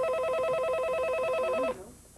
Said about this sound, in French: Le téléphone n'en a plus pour très longtemps à sonner à la Régie de la sécurité dans les sports.